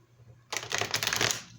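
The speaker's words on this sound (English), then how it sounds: "2 more shuffles here" Tarot cards being shuffled by hand, a short crisp riffling burst close to the mic after a brief quiet lead-in, alone without talk.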